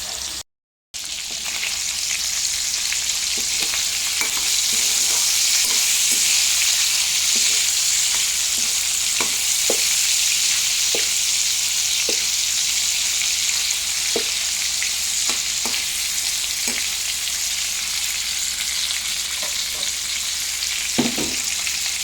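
Prawns frying in hot oil give a continuous loud sizzle and crackle throughout, broken by occasional soft pops and utensil taps, with no talking.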